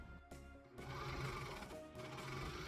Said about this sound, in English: I'm doing this on the serger, which is kind of nice because it finishes off the edge at the same time